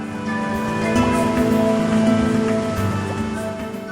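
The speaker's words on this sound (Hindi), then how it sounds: "ऊपर से गिरता हुआ वाटरफॉल बिल्कुल सफ़ेद दूध के वाटरफॉल की तरह लगता है" A white waterfall plunging from above in the Darma Valley near Panchachuli base camp gives a steady, loud, full rushing roar, unbroken throughout, with a faint steady hum running beneath it.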